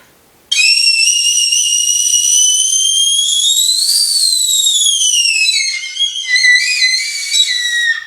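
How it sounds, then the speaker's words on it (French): Shrill sustained whistle blown on a piece cut from an old kettle, one long bright tone rising and falling slightly, then breaking into short warbling bursts near the end, loud and close with no voice. "parce que ça fait des très bons sifflets."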